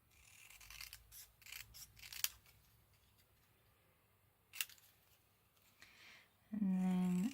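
Scissors snip through paper while trimming a paper craft embellishment for a dangling cluster, giving a few quiet, close cuts spread through a mostly hushed room.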